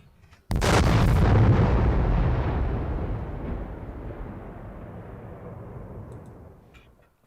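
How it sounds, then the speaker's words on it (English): A sudden loud explosion during a Battlesnake stream bursts in with a heavy boom, then rumbles and slowly fades over several seconds, with no one talking. "Did you hear the explosion"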